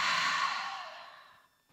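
A single long breath out through an open mouth, breathy and close during a yoga cool-down, fading steadily to silence over a couple of seconds.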